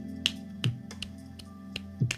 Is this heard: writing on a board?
no